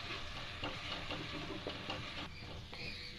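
Ground gond being roasted and stirred in a pan for laddus, a steady sizzle with repeated scraping strokes of a spoon throughout, close and fairly quiet.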